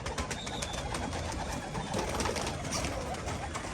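Pigeons coo and rustle nearby, with soft flutters and low calls over a busy outdoor background; no one speaks.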